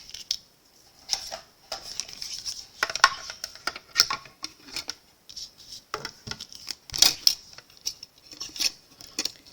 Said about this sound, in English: I'm going to use my little stamp cut and emboss machine